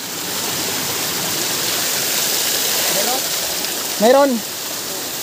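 Strong water rushes at its source with a loud, steady broadband roar throughout, while a voice speaks briefly near the end.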